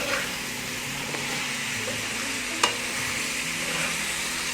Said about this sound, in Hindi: फलियों को भी हमने भूनना है थोड़ा सा।